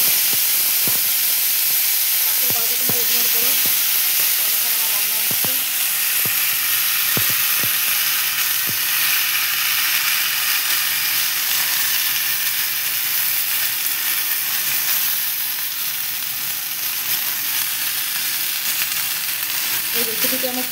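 Bitter gourd and potato pieces frying in a wok, giving a loud, continuous hissing sizzle with occasional soft clinks of a utensil early on.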